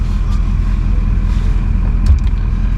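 A 1999–2007 Chevrolet Silverado pickup cruises along with a freshly installed steering gearbox, its engine giving a steady, loud low hum and road rumble from inside the cab, with no talking.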